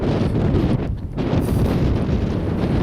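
Strong outdoor wind buffets the microphone with loud, continuous roaring rumble, dipping briefly for a moment before surging back at full strength.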